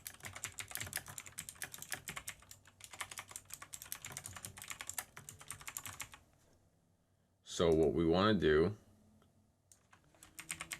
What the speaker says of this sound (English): I'm typing in the link right now.